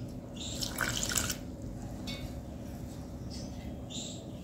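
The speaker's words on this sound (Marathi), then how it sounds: "हे पाणी टाकून घ्यायचं आहे" Water trickles and splashes into a bowl of cabbage manchurian batter made with flour, a soft, close pouring sound over steady background hiss.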